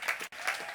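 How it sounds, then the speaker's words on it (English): Graduation ceremony audience applauding the graduates, a brief burst of scattered clapping heard faintly and from a distance, with a momentary dropout midway. "Friends, please give a big round of applause to all of our graduates"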